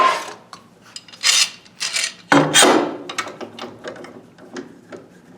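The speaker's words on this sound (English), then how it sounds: "I'm going to secure this down to the table with a couple of clamps." Clamps being tightened to fasten a mini lathe to a table, a close series of ratcheting clicks and metallic scrapes in short uneven bursts, loud then easing off.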